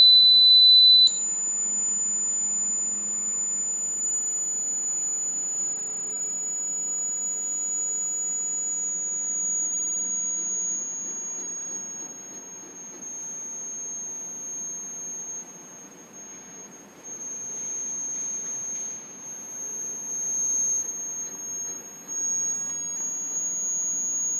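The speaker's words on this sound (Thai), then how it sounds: "นี้ความถี่เสียงอยู่ที่7กิโลเฮิรตซ์นะครับ" A steady, piercing 7 kHz test tone from an Arduino holds continuously for the whole stretch, with a faint low hum and background noise underneath.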